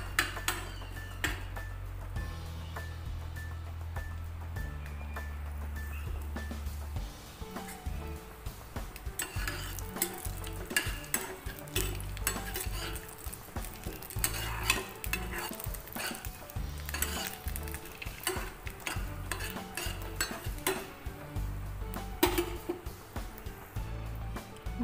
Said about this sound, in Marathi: आणि काही बदामाचे काप करून घेतलेले आहेत ते सुद्धा तुपामध्ये व्यवस्थितपैकी असं परतून घ्यायचं आहे